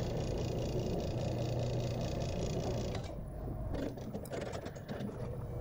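A motorized 1950s theater curtain mechanism runs with a steady mechanical hum and rumble, then shifts partway through to lighter rattling and scraping as it keeps moving.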